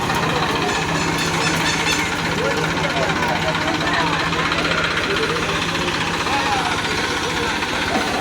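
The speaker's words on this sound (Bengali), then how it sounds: "এই যে ট্র্যাক্টর স্টার্ট দিয়ে দিয়েছে।" A tractor engine running at a steady, loud idle with a rough, knocking rumble, continuous throughout and close by, with people talking over it.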